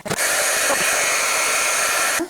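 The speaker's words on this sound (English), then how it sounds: "now I have to get the heat gun going. It's going to be a little loud." A heat gun runs steadily for wax resist embossing, a loud close hiss and fan roar that starts abruptly, holds for about two seconds and cuts off.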